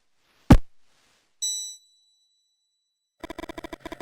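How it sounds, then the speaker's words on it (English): A bell rings in Mothmen 1966: a sharp thump, then one clear ding that fades out. After a pause comes a fast burst of repeated metallic rings, all against silence. "Suddenly the bell rings"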